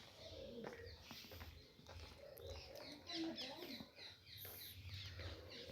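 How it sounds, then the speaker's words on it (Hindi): Pigeons or doves cooing and small birds chirping around the grounds of Deeg Fort, a steady mix of calls at moderate distance over low background rumble, with a person talking at times. "पक्षियों की चहचहाने की आवाज़ आ रही है यहाँ पर।"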